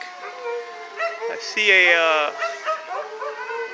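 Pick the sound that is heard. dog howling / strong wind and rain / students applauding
dog howling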